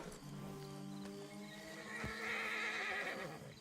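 A horse in the Red Dead Redemption 2 video game whinnies in a long, wavering neigh, then its hooves shift and snort nearby, fairly close and clear.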